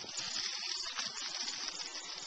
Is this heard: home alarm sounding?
no